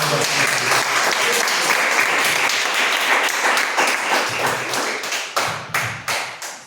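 Steady applause from a church congregation, many hands clapping together, then thinning out into a few scattered, separate claps at the end.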